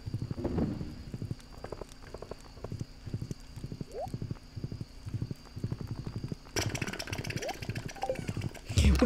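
Horse hooves clip-clopping in the Stardew Valley Expanded video game, a quick, even rhythm of soft hoof beats that runs the whole time over faint background music.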